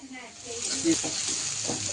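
Pointed gourd (potol) slices frying in a pan in a home kitchen, a soft, steady sizzle and hiss at moderate distance with faint stirring, without speech.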